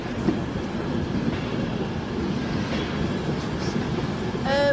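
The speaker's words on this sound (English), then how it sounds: "This is my train back to Grantham." A train rumbles steadily at a platform in Newcastle station with a low mechanical hum, and a brief metallic squeal rises near the end.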